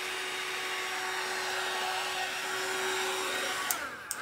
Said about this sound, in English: I'm just gonna blow everything off with the hairdryer.